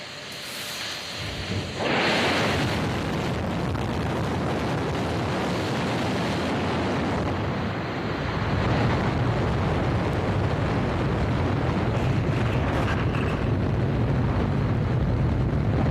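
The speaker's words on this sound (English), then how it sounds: "GLS is go for core stage engine start." The Artemis II SLS rocket's core stage engines ignite at launch, bursting into a loud, sustained roaring rumble that rises suddenly and holds steady without letup.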